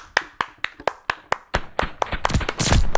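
Hand claps in a steady rhythm, about eight sharp slaps evenly spaced, then faster, denser clapping building into a louder burst with noise at the end, during a Call of Duty: Vanguard session.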